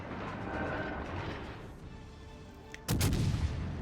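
Battleship main guns boom in World of Warships: Legends, with a German Tier 7 battleship Odin firing on an Iowa; one loud, broad blast lands near the end after a stretch of rumbling battle ambience.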